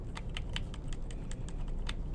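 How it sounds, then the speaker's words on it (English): Quick clicks of keys pressed on a Mac keyboard, Command held with the minus key tapped repeatedly, about ten light taps in a steady run, soft and close against a low background hum. "if you hold down the Command key, the one with the apple on it and the little clover sign, and then you hit the minus key"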